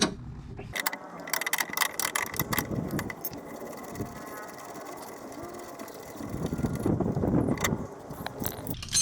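Ratchet clicking in irregular bursts while an axle nut is removed from a 2000 Hyundai Elantra during outer CV joint work, with metallic clatter and rustling of tools close by, no talk.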